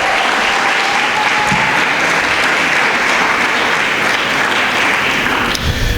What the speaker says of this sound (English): Let's applaud them this morning.